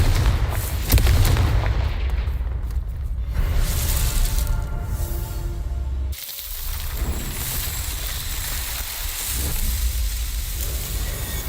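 Explosive spells, Confringo and Bombarda, go off in a video game as a loud, continuous barrage of booming blasts and crackling fire, with a brief sudden drop partway through before the blasts resume.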